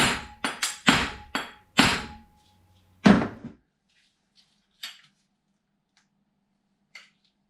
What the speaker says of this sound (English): on this stud you're going to see me getting much more momentum on the hammer